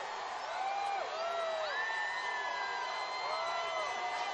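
A parade crowd at a Houston Astros championship celebration chants and cheers. Rising whoops and drawn-out shouts rise over a dense, steady roar of many voices at moderate distance.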